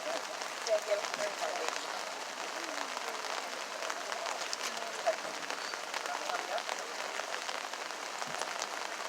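Rain pattering steadily during an outdoor Memorial Day service in Oneida, a soft continuous hiss of drops with occasional faint taps, fairly distant and low in level.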